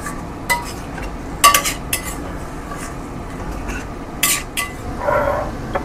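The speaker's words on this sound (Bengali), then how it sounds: "দিয়ে আবার কষাতে শুরু করলাম" Chicken and yogurt being stirred and sautéed in a pan, with a metal spoon scraping and clinking against the pan in irregular bursts over a low steady sizzle.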